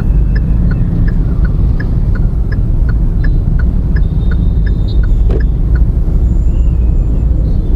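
Steady road traffic rumble heard from inside a moving Hyundai Grand i10 Nios hatchback, a low continuous drone of engines and tyres with faint repeated ticks and a brief higher tone midway.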